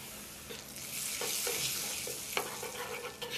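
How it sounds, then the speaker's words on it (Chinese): Hot oil poured into a bowl of flour for an oil paste, crackling and sizzling loudly as a spoon stirs it, with a few clinks of the utensil against the bowl. "加入烧好的热油，"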